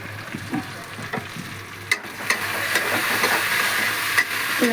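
Chopped tomato and green chillies sizzle and fry in a pan, a steady hiss that swells louder partway through, broken by a few sharp stirring clinks.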